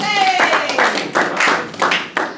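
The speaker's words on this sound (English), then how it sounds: "Please give Bill a round of applause." An audience at a live lecture gives a brief round of clapping. A voice is heard at the start, then several sharp, close claps follow in an uneven rhythm.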